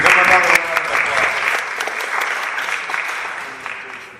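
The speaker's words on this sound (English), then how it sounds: "give him another round of applause" Applause from the audience at a homeowners association annual meeting, a crowd clapping steadily and fairly close, loudest at the start and holding through to the end with a slight fade.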